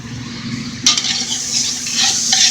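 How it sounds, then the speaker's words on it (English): Onions and asparagus sauté in a pan for cream of asparagus soup, a steady close sizzle with stirring scrapes that grows brighter and louder after the first second, with no talk. "we have our onions and our asparagus going"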